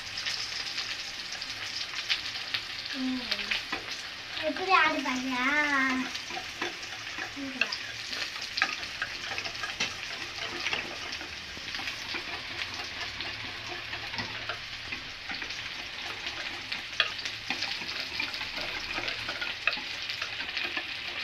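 Okra (ladies finger) sautéing in a pan for a dahi bhindi curd gravy gives a steady, hissing sizzle with soft stirring scrapes throughout. It sounds close and moderately loud, with no talking.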